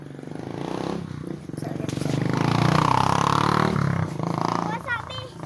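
A motorcycle engine rumbles and revs nearby, rising to a throaty roar midway and easing off, with people talking over it.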